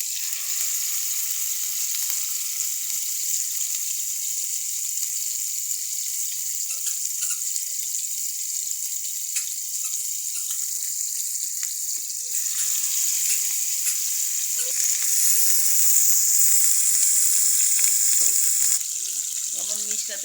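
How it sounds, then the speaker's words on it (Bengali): Fish frying in a pan, a steady bright hiss of hot oil running throughout, swelling louder near the end with some crackles and faint clatter. "মাছের ফ্রাই দেখেন কেমন করে করি আমি।"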